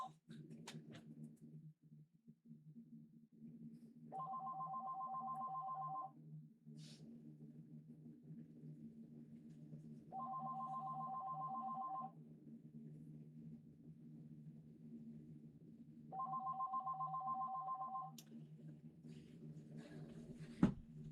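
A phone rings with an incoming call: three evenly spaced electronic ring bursts, each about two seconds long and several seconds apart, over a low steady hum in a quiet room.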